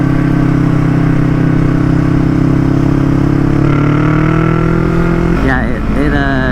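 Yamaha MT-03 motorcycle fitted with a full Akrapovic exhaust idles with a steady, loud drone, its pitch stepping up partway through before a quick rev rises and falls near the end.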